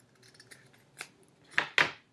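Scissors snip through craft material, likely a cardboard paper roll or egg carton, with a few soft cuts then two sharp, close snips near the end, no talking.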